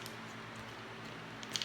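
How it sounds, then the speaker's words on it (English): A resealable Ziploc bag half filled with warm water is pressed to squeeze the air out, giving soft, faint crinkly squishing under a steady hiss, ending in a couple of small plastic clicks. "Now I'll carefully seal up the bag. And I wanna press some of the air out of this."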